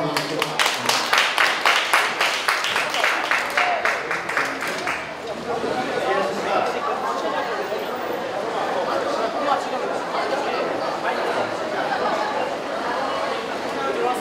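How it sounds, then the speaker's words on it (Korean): Audience at a cycling festival opening ceremony clapping in a quick rhythmic unison beat at first, then breaking into a dense sustained wash of applause and crowd chatter. "큰 박수 한번 주십시오."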